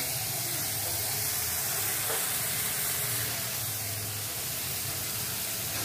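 Boiled pasta being stirred into a hot pan, giving a continuous loud hissing sizzle with a dense, even texture throughout and no speech.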